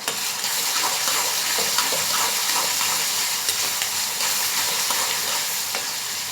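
Curry leaves crackling in hot oil alongside partly cooked onion, a dense, bright and loud sizzle that holds steady throughout, close up and with no talking.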